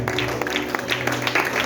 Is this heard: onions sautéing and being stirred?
no